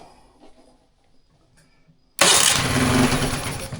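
An engine on a farm is cranked and catches after a quiet pause, then runs loud and close with a steady rumble.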